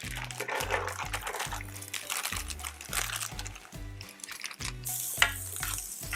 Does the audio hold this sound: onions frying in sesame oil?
yes